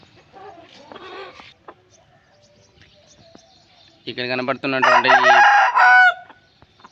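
A Bheemavaram cross-breed hen on a farm gives scattered soft clucks, then a loud, drawn-out burst of calling near the end, close by, with a brief spoken word early on.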